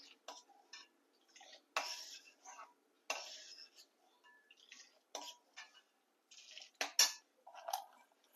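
A spoon stirs a kulfi milk mixture with added saffron in a pot, making repeated close scrapes and metallic clinks in short irregular bursts with quiet gaps between.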